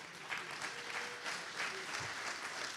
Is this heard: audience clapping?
yes